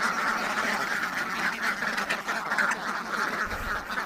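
A flock of about a hundred farm ducks quacks in a village setting, a dense, continuous chorus of nasal calls that stays moderately loud and close throughout.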